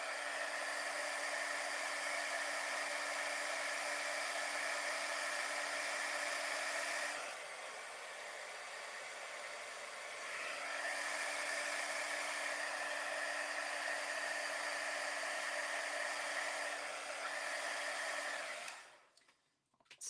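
A heat embossing gun blows hot air loudly and steadily at close range for about eighteen seconds, its whirring tone dipping briefly in the middle before the motor cuts off near the end.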